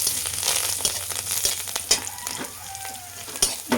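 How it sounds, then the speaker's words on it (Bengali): Curry leaves fry in hot oil with onion and garlic, making a continuous close sizzle and crackle, broken by occasional sharp pops and stirring knocks. "কারি পাতাটাও আমি ভালোভাবে ভেজে নেব।"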